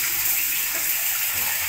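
Water runs steadily while a toilet is rinsed during cleaning, a continuous broad splashing rush like a running tap, close and fairly loud with no pauses and no talk.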